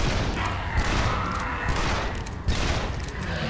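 Rapid gunfire in the first-person shooter game Shadow Warrior, a dense continuous fusillade with heavy low booms and sharp bursts near 0.8 and 2.5 seconds, loud and close, with no talk over it.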